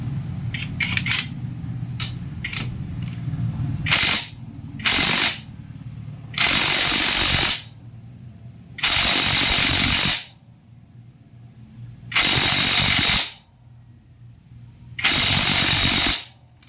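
A cordless Makita impact wrench loosens bolts in loud, rapid hammering bursts: several short blasts, then longer bursts of one to two seconds separated by pauses, over a steady background hum.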